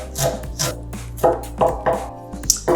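Ginger being chopped with a knife on a board during home cooking of a spicy egg curry, a series of crisp irregular chops close up with short pauses between strokes.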